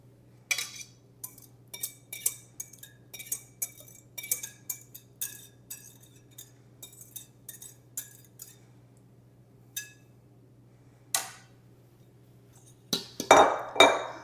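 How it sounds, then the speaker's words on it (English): Wet ingredients are mixed into dry for smoked honey bacon cornbread, heard as a series of sharp clinking taps of a utensil against a bowl, irregular and close, with a low steady hum underneath and a louder jumble at the end. "Now I'm gonna mix the wet into the dry. And then we'll give it a good mixing to get this batter just right."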